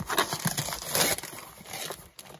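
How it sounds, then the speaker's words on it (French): Parcel packaging being ripped open by hand, a dense run of crinkly tearing and rustling at close range, loudest in the first second and tapering off afterward, with no talking. "désolé pour le bruit, j'arrache."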